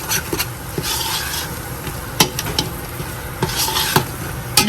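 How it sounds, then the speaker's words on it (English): A spoon stirs dry seasoning into a pot of Guyanese corn soup, giving steady scraping and rubbing with a faint sizzle and several sharp clinks against the pot, all without talk. "You want to go ahead and mix this in nicely."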